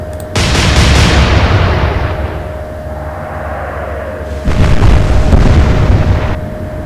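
Two heavy naval gun salvos boom in the Atlantic Fleet game with a Royal Navy versus Kriegsmarine battle, each a loud sustained blast that rolls off into a long rumbling tail, close and with no speech.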